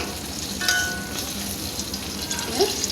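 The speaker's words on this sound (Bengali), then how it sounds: "কাঁচপাটা দিয়ে দিলাম" Green chilies drop into hot oil in a heated karahi and sizzle steadily at close range, with a small splash of added sound near the start and a brief clink near the end.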